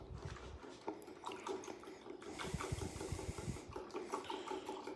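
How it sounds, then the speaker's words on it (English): A whisk stirring a sauce for a pork chop preserve reduction, a quick continuous scraping and sloshing rhythm close up, with no talking. "So now we're going to use our whisk. We're going to come in here and we're just going to mix this up."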